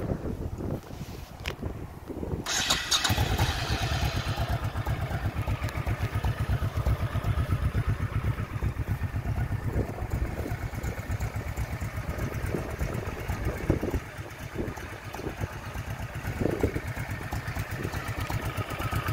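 A 1998 Honda Shadow ACE Tourer VT1100T motorcycle fires up after a brief starter crank and settles into a steady, loud, rhythmic idle with some wind noise on the microphone.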